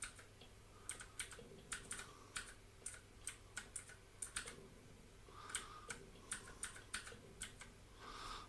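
Computer keyboard keys tapped in quick irregular bursts, faint and close, on a computer running MX Linux, with short pauses between runs of clicking.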